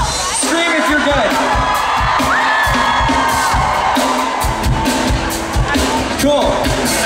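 A live concert crowd at a show in Boca Raton, Florida screams, whoops and cheers loudly and continuously, with shouts rising out of the roar.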